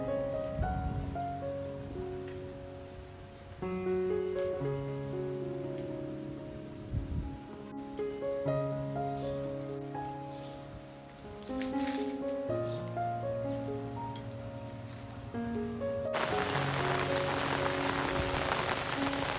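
Rain falls in a soft, steady patter under a melodic tune during monsoon rice transplanting in Konkan, and the downpour grows into a louder, denser hiss near the end.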